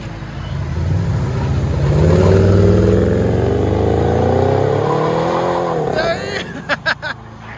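Supercharged Ram 1500 RT with a 5.7L HEMI V8 and Magnaflow glass pack exhaust revs loudly nearby, a deep engine roar rising and falling under excited voices, ending in a few short sharp blips.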